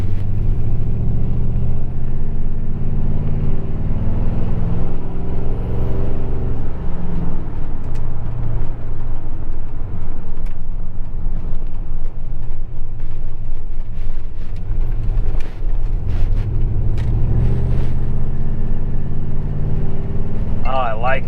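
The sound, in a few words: Ford F150 Harley Davidson truck driving on the road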